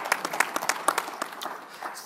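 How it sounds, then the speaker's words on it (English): Panel audience at a legislative conference breaks into applause, a dense patter of many hands clapping that starts strongly and then thins out over about two seconds. "round of applause, please"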